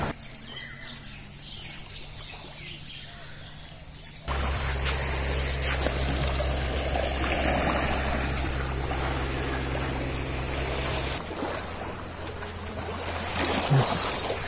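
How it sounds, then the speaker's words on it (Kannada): A speed boat arrives on the water at Melaka, with a quieter opening hum that gives way to a loud, steady motor drone and water rush from about four seconds on, fading slightly near the end. "ನಮ್ಮ ಸ್ಪೀಡ್ ಬೋಟ್ ಕೂಡ ಬಂದಾಯ್ತು"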